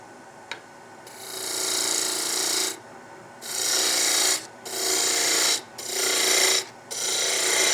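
A gouge cuts end grain on a spinning wood lathe, giving long, loud, hissing, rasping passes of several seconds each, separated by short pauses, up close and with no speech.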